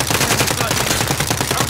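Sustained automatic gunfire from a Call of Duty: Modern Warfare match, dense rapid bursts filling the whole moment at close range, loud and continuous with no talk over it.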